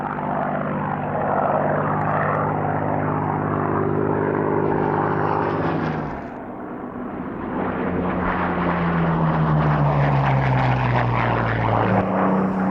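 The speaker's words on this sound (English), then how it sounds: "Another of the oldest surviving Spitfires is this Mark 1A, another veteran of the Battle of Britain movie" A Supermarine Spitfire Mark 1A fighter flies past at the 1996 Duxford airshow. Its piston engine drones loud and steady, eases off briefly, then swells again with a shifting pitch as it passes.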